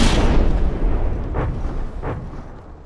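Naval artillery from a naval combat video game opens with a heavy, rumbling boom that decays slowly. Two fainter distant thuds follow a moment later, with no talk.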